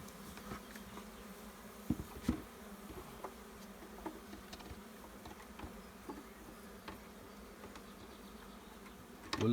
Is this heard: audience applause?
no